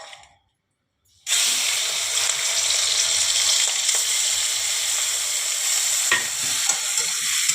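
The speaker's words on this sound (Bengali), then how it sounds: "এবারে আমি মাছগুলোকে ভেজে নেব।" Fish, salted and coated with turmeric, frying in hot mustard oil, with a steady, loud, continuous sizzle that bursts in after a second of silence and holds with faint spatters and stirring clinks throughout.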